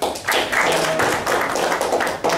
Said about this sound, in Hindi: मुकेश भाई के लिए जोरदार तालियां हो जाए.